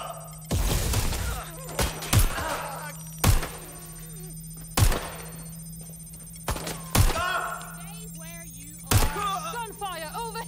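Gunfire in the video game Watch Dogs: Legion, sharp single shots spaced every second or two, loud against a steady low hum, with voices talking between the shots.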